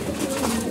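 A single pigeon of good bloodline gives a brief, soft, throaty coo, close and low, with no one talking.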